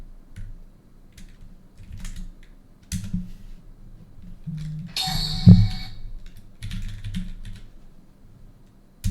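Keystrokes on a computer keyboard as ipconfig is entered at a command prompt, scattered close clicks in short bursts with a louder clatter in the middle, no talking.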